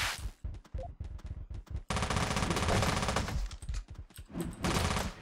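Gunfire in the video game Teleglitch, loud and close: quick bursts of separate shots, then a long rattling automatic stream, then more scattered shots.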